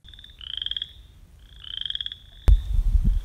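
A frog croaks in two rhythmic, pulsing calls, each about half a second long and fairly close, followed by a sharp click and low rumbling noise.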